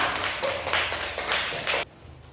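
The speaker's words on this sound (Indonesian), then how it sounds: "Mari kita berikan tepuk tangan untuk kelompok 2" A classroom group claps for a presenting group, brisk bursts of applause from several hands that stop abruptly, leaving quiet room noise.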